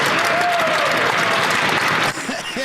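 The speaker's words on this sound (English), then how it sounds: "Every time the Conservatives get up and clap." Conservative MPs clapping in the House of Commons during Question Period, a dense, loud burst of applause that thins near the end as a voice begins.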